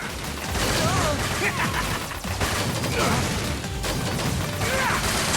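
Mega Man 11 buster shots fired during a boss fight: rapid, dense bursts of arcade blasts and impact crashes over a loud continuous game soundtrack, with chirpy effect sweeps scattered throughout.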